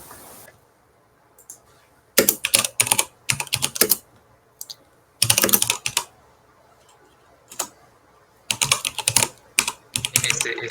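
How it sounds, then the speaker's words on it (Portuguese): Rapid typing on a loud retro computer keyboard, sharp clattering key clicks in quick bursts separated by short pauses, close and crisp with no talk. "Esse teu teclado ainda vai ensurdecer. O som fica muito alto, né?"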